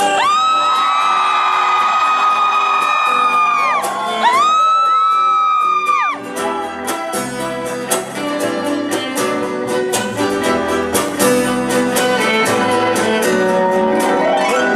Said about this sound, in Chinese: 尖叫声